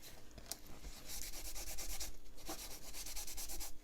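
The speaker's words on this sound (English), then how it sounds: "I'm going to just take a piece of tissue paper and I'm just going to wipe over the embossing" Tissue paper is wiped over embossed paper in quick rhythmic strokes. The close, steady swishing lasts several seconds with no talk.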